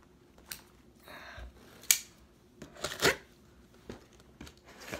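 A box cutter slicing through packing tape on a boxed Harley Benton B550 fretless bass guitar, heard as scattered sharp snips, scrapes and tearing rasps, moderately close, with no talking.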